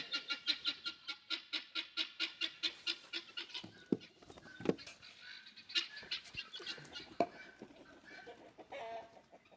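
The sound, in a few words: bird, probably farm fowl, calling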